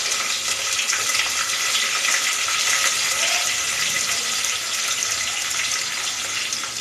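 Sliced onions fry in hot oil in a pan with bay leaf and whole spices while making biryani, giving a steady, bright, hissing sizzle that stays loud and even throughout.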